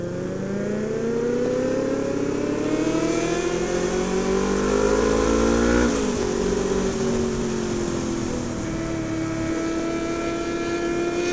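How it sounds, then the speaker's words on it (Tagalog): At night in Metro Manila, a vehicle with no silencer revs loudly, its engine note climbing in pitch, dipping briefly, then droning on as it pulls away nearby. "Wala silencer yan. Ingay pa din."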